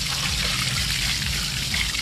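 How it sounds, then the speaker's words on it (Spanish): Water poured over boat screws, a steady splashing trickle holding at an even, close level throughout with no talk. "tírele agua, tírele agua"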